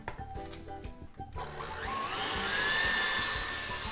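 An electric stand mixer beats cake batter for a tres leches cake after sugar has been added, its motor rising into a steady whirring drone after a few clunky, uneven starts, with no talk.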